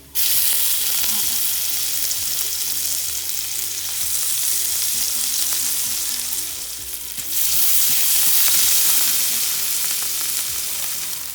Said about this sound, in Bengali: কড়াইয়ের মধ্যে আলুটা ভালো করে নাড়াচাড়া করে ওর মধ্যে দিয়ে দিলাম শাকটা